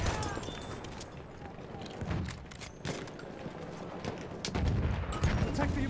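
Battlefield 1 gunfire crackles as a scattered fusillade of shots, some near and some distant, fairly faint under the game's battle noise, with a voice speaking briefly.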